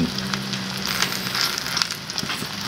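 Eggplant and egg for tortang talong fry in hot oil in a pan, giving a steady close sizzle with crackling bursts throughout and no talking.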